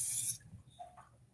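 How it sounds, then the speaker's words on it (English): A brief, forceful hiss of cooking spray bursts onto a crock pot for a moment, then stops, leaving quiet faint handling noises. "I'm going to take my crock pot and spray it good"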